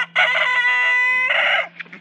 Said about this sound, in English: He's a man fighting chicken.